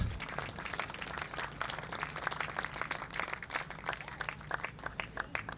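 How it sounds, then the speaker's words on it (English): An audience at an outdoor commemoration ceremony, a 104th anniversary memorial at Bohemian National Cemetery, gives a sustained round of applause, a continuous, quiet patter of many hands heard from a distance. "So a round of applause for those three people."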